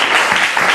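A short burst of audience applause during a Sunday church conference, dense and fairly loud clapping filling the whole moment.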